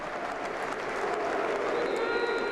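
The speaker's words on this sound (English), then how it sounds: "this is the moment of pausing for thought for Ukraine, applause for Ukraine" Stadium crowd at a Chelsea football match applauding for Ukraine, a broad continuous wash of clapping and crowd noise, distant and even, with a faint tone rising near the end.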